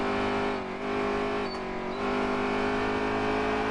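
Race car engine in NASCAR Heat 3, a steady loud drone with strong harmonic bands holding pitch through a corner at ISM Raceway, with a slight dip as the car brakes and then returns to full throttle.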